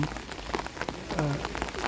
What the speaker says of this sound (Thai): ฝนก็โปรยปลายไม่ยอมหยุดสักทีหนึ่ง